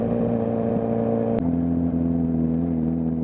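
Steady mid-pitched engine drone from a Suzuki GSX650F motorcycle cruising through a quiet park, a constant close hum with a slight shift in pitch partway through, no voices.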